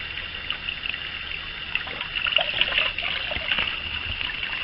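Water trickling while raccoon hides are rinsed: a steady, close running and dribbling over a constant hiss, with a slightly stronger splashing stretch midway and no talk.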